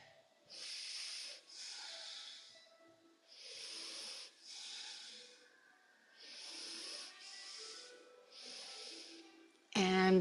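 Slow, deep yoga breaths, each a long airy inhale or exhale with brief pauses between, heard close and quiet, about seven in a row, ending in a sudden louder bump.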